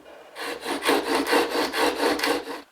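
A chisel being sharpened in a honing jig on fine abrasive paper to form a micro bevel, giving a steady rhythmic rasping scrape of about ten even back-and-forth strokes, close and fairly loud, with no voices.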